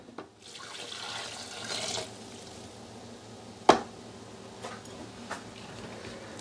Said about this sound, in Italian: Aggiungere l'acqua calda.